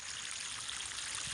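Irrigation water flows steadily into the furrows of a potato field, a soft, continuous rushing hiss with no voices.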